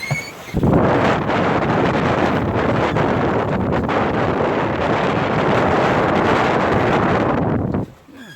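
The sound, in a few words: wind at sea on a sailboat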